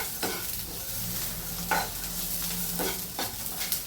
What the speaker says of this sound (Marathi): छान भाजू द्यायचं.